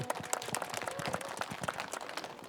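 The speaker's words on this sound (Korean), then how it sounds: "힘찬 박수로 모시겠습니다" A crowd at a labor groups' gathering in Suncheon gives quiet, fairly distant applause to welcome a farmer poet, a dense patter of scattered claps lasting a couple of seconds with no voices.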